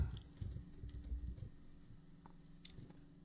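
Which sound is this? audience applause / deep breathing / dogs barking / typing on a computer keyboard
typing on a computer keyboard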